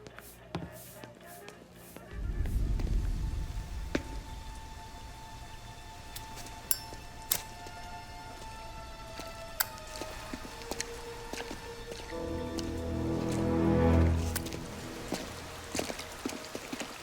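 Rain falls steadily in Mafia Definitive Edition, a soft continuous patter with scattered sharp drips and clinks on surfaces, swelling with a low rumble at moments.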